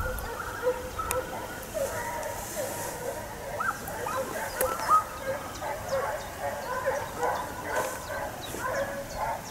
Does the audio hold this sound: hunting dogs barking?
yes